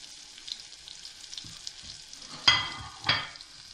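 Chopped green garlic drops into hot oil in a pan and sizzles, with two sharp bursts of frying as pieces hit the oil, settling into a softer crackle.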